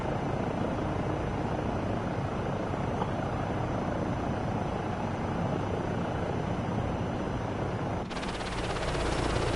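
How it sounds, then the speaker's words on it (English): Helicopter in Microsoft Flight Simulator 2024, a steady loud broadband rotor and engine roar that fills the whole clip, with a brighter rise in the upper range near the end and no voices. "We're on the copter."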